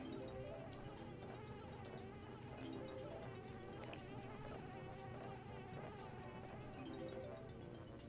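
Continuous buzzing of bees in the video game Banjo-Kazooie, a steady insect drone layered over busy game music, with no talk.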